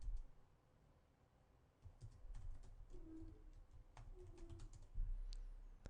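Name being typed on a computer keyboard, a scatter of soft, fairly quiet key clicks in irregular bursts over a low background hum.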